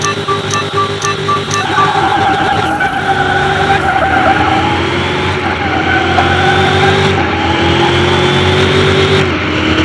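A souped-up Nissan GTR races hard in Car Mechanic Simulator 2021, its loud engine revving and climbing through the gears with tire skids layered over a constant roar.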